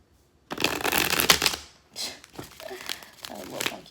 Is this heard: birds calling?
no